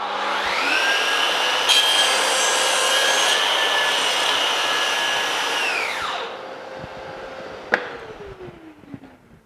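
A Festool CS 50 saw cuts through an engineered parquet floorboard with a loud, steady whine for about six seconds, then the blade winds down and fades out.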